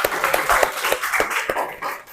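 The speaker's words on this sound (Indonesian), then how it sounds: "Oke, tepuk tangan semuanya." Scattered hand claps sound in an uneven rhythm, a small classroom group clapping briefly at close range amid faint background murmur.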